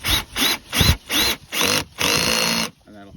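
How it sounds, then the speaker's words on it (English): Ryobi power drill driving a screw into a BMW X3 door panel, six short close whirring bursts with rising pitch, the last one longer, followed by a brief click. "I do recommend Ryobi drills that make things so much quicker"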